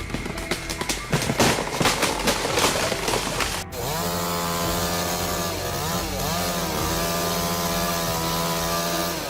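A chainsaw cuts into a tree, first with choppy bursts and knocks, then a sustained loud buzzing whine whose pitch rises and dips as the load changes, close and continuous.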